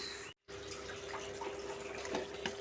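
Water is poured into a pan of bottle gourd and tomato curry, a steady close splashing gush that stays continuous apart from a brief silent gap near the start.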